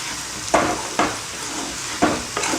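A spoon stirs sambar powder into oil sizzling in a pan, a soft continuous frying hiss broken by four sharp scraping strokes, heard close up.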